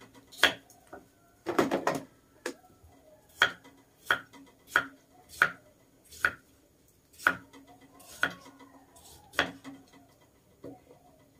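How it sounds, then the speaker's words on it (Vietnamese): A knife chops radish on a board in sharp, regular strikes about one a second, close and crisp, with a quick flurry of cuts near the start and a quiet room otherwise. "Mình xắt củ cải ra"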